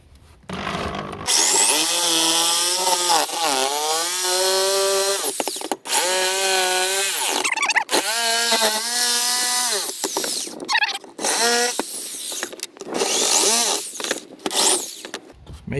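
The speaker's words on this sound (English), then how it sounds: "And that's when the jigsaw goes to start off." A jigsaw powered through a Renogy 1000W pure sine inverter cuts material in a 2015 Citroen C4 Picasso conversion, its loud close motor whine rising and falling in pitch across repeated bursts of cutting, with short pauses between them.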